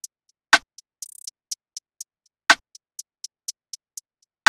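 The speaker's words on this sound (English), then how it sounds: "And then this snare that's hard, just sort of like a rim shot." A hard, rim-shot-like snare cracks twice, about two seconds apart, inside a sparse programmed beat with quick ticking hi-hats and a short hi-hat roll, loud and dry with no voice over it.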